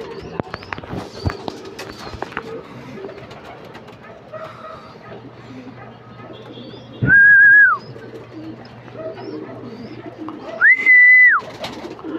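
Racing pigeons at a loft coo and call softly amid general outdoor bustle, with two sustained clear whistle-like tones standing out loudly partway through and near the end.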